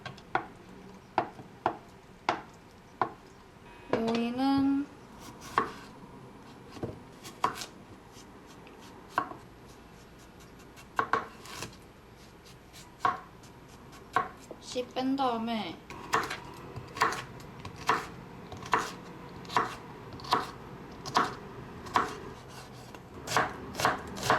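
A knife dices thawed frozen natto or similar ingredients into cubes on a cutting board while a healthy meal is prepped, giving a steady run of sharp, close chopping taps with brief rubbing pauses and no talk.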